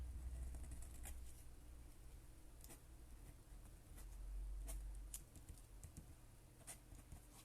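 Soft scratching of a fountain pen nib on paper during a live drawing session comes as sparse, irregular faint clicks and scrapes over a steady low background rumble, with no one talking.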